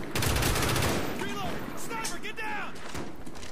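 Shotgun fire in Call of Duty Black Ops sounds in a dense, loud barrage of blasts over continuous game noise, with voices chirping faintly in the mix.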